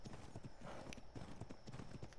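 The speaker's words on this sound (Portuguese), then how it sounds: "Um cavalinho." Horse hooves clip-clop in a steady trotting rhythm in the video game Ark, close and continuous over a dense game soundscape.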